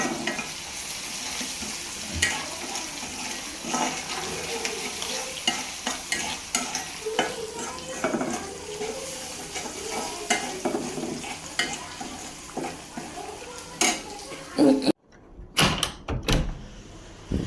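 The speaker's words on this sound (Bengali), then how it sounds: "রসুন, পেঁয়াজ আর পাঁচফোড়ন আর শুকনা মরিচ দিয়ে আমি বাগারটা দিচ্ছি।" Garlic, onion, panch phoron and dried chili crackle and sizzle in hot oil for a tempering for thin khichuri, with steady frying hiss, scattered pops and stirring clatter, then a brief quiet pause before the sizzle returns.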